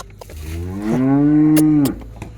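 A dairy cow gives one loud, close moo lasting about a second, rising in a low drawn-out tone and cutting off sharply, with a little farmyard background noise around it.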